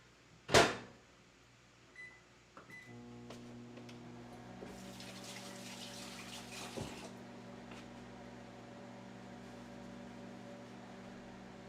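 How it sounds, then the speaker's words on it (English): A countertop microwave oven heating a microwave-safe dish starts with a sharp click and beeps, then settles into a steady, quiet electrical hum that runs unbroken for several seconds. "maybe I'll microwave this so we can see how that works."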